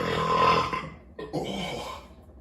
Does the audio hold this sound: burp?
yes